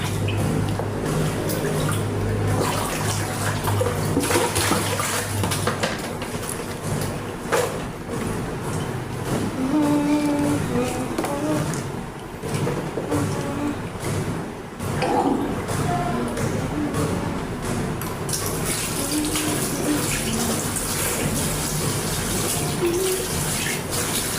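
Water runs steadily from a tap while water spinach (kangkong) is rinsed for pork sinigang, a continuous splashing wash with occasional drips and handling sounds close by.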